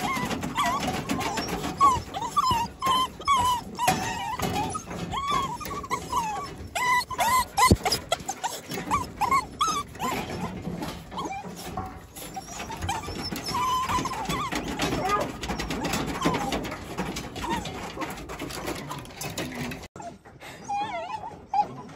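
Puppies whimper and whine in high, wavering cries, many overlapping and close, with a person talking now and then over the noise.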